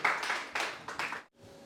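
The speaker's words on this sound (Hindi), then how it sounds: "जोरदार तालियां बजाएंगे पारस भाई के लिए।" An audience claps in a short burst for a performer at a birthday celebration gathering; the clapping runs for about a second, then cuts off into quiet.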